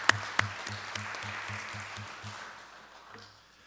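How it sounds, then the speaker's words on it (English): Board meeting audience at Valley View CUSD 365u applauding retirees, a moderate, steady clapping that tapers off toward the end, with a low rhythmic hum and a couple of sharp knocks near the start. "I think we should take this moment to give them a round of applause."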